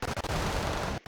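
FN MAG machine gun fire in the war strategy video game Wargame: Red Dragon, a dense, loud, continuous burst of rapid shots with a few sharp separate reports at the start, cutting off abruptly near the end.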